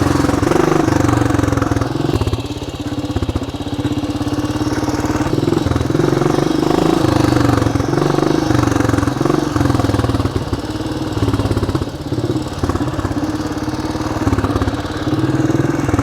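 A fierce motorcycle fitted with an oil radiator, known to run a bit hot, rumbles steadily at idle close by, its engine note holding even throughout with no talk over it.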